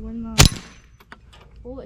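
A Ruger Mk4 22/45 pistol fires a single sharp, loud crack during a day of plinking near a barn, followed by a short fading tail and some faint background talk.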